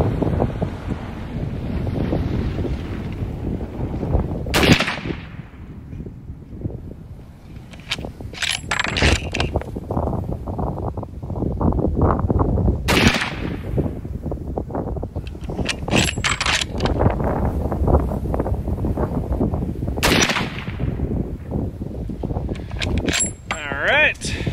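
Three sharp, loud rifle shots from a Mossberg Patriot chambered in 7mm Rem Mag, fitted in an MDT Oryx chassis, crack several seconds apart outdoors over constant wind rumble, with voices talking between them.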